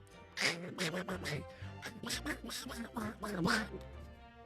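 A voice imitates Donald Duck in a string of squawky, quacking syllables that come in quick, uneven bursts, close and fairly loud, for the whole stretch with no other sound behind it.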